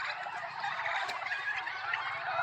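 A flock of turkeys on a farm keeps up a dense, continuous chorus of gobbling nearby while the males fight, and no one is talking.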